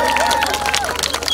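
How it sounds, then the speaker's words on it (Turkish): Wedding guests at a henna night applauding, a brief burst of dense clapping and cheering from a crowd, close and lively, with voices and a tonal musical tone running underneath. "Alkış gelsin lütfen."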